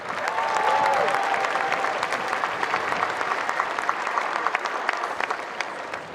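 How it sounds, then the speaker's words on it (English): Sustained crowd applause at the UNC-Chapel Hill 2022 spring commencement, honoring faculty seated in the front row: a dense, steady wash of clapping from a large audience that holds throughout and tapers slightly at the end. "to our world-class faculty who are down in the front row here, a round of applause"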